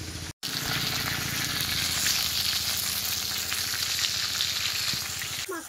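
Large pond-caught katla fish frying in oil in a kadai, a loud continuous close sizzle with crackling spatter and occasional stirring clatter, a brief cut near the start and a clink at the end, no talking.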